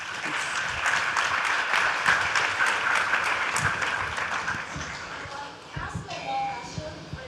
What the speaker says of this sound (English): Can we get a round of applause for these three?